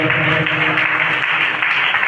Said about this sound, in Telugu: చప్పట్లు కొట్టండి సిగ్గు లేని వాళ్ళందరూ